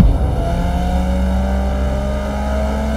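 A car roars past at speed, its engine revving hard and whining upward in pitch as it passes, loud and steady throughout with no talk.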